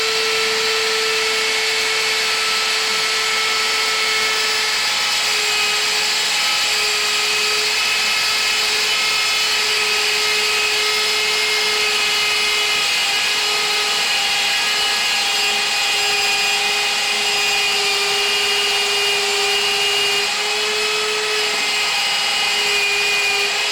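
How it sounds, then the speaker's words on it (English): A power drill boring 3/8 inch holes through table wood, a loud, continuous high whine with a steady pitch that holds unbroken for the whole stretch, close up and without talking. "Drill the 3/8 inch."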